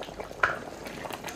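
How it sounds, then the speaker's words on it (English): Goat head and legs boiling in a pot on a gas stove during Eid cooking, a steady low bubbling and simmer with one brief louder burble, close and moderate in level. "goat head and leg. Currently boiling."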